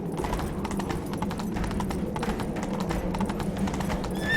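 A horse gallops in The Witcher 3 video game, with quick rhythmic hoofbeats drumming continuously at close range over a low ambient bed, and no talk.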